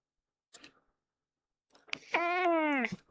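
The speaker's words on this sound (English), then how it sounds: "Wow, did you hear that meow?" A single drawn-out meow rises and falls, close and clear, preceded by a couple of faint clicks and rustles in otherwise quiet surroundings.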